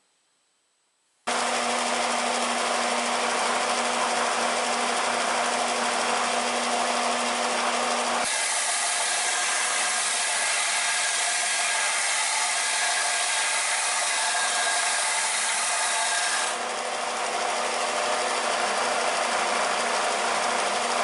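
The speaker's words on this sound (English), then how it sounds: "Just a few seconds on that flatbed sander is going to enable me to make the bottom of that absolutely flat and also grind the wood to the metal." A flatbed sander starts with a sudden loud whine and grinds steadily as a wooden paring knife handle is sanded flush to its metal, the tone shifting twice as pressure changes.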